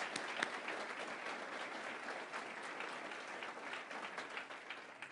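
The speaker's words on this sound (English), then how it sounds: "So let's give them all a big round of applause for this Pledge of Allegiance." Audience at a Southern Maryland regional cabinet meeting applauding after the Pledge of Allegiance, a steady, fairly soft round of many hands clapping heard from a distance, with no speech.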